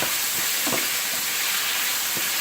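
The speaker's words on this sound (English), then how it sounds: "I'm going to saute all this stuff for about 2 minutes." Tomatoes and Scotch bonnet pepper sautéing in a pan for Jamaican spicy coconut curry shrimp give a steady, close hiss, with a few soft stirring taps rising out of it.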